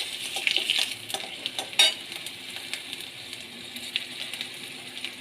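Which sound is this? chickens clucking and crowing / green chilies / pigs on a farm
green chilies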